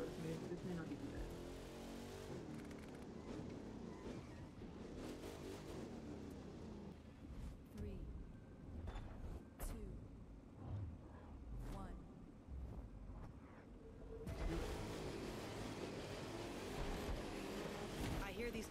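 A heavy truck engine drones and revs in the racing game The Crew 2, loud and continuous with shifting pitch and bursts of acceleration, while someone talks over it.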